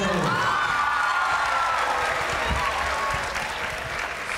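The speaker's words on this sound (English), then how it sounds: "Round of applause for Emily." A studio audience applauds and cheers for a panel guest at a live Catholic talk event, with sustained, dense clapping and faint whoops that hold steady for several seconds before easing slightly at the end.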